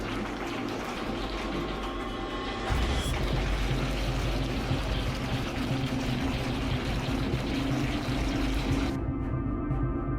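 Heavy rain pours down in a dense, steady roar with strong wind and hail hitting a roof, loud and continuous throughout, with a deep low rumble in the first few seconds before the sound thins near the end.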